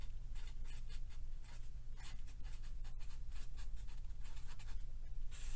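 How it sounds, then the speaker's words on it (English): A pen scratches on a board or paper as a periodic-function definition is written out, giving faint, close, irregular strokes and taps that continue steadily over a low background hum. "let's write down the definition of a periodic function"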